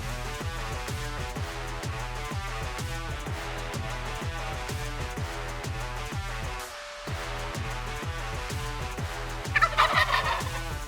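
Wild turkeys gobble repeatedly in loud, rattling bursts, one after another with a brief pause, ending with a louder burst of calls.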